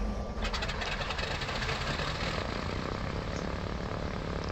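An Aero Commander AC68 twin-engine plane in a flight simulator, its engine cranking and catching into a loud, steady propeller drone that holds close and continuous.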